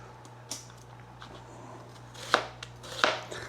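A kitchen knife trims the edge off a single onion being sliced for pickling: three crisp, separate cuts against a faint, steady background hum, with no talking.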